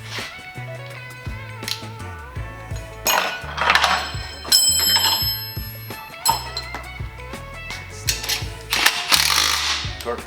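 Power tool tightening a bolt on a Trackchair AXIS drive sprocket, with bursts of ratcheting buzz and metallic clinks coming and going close by over several seconds, mixed with light shop noise.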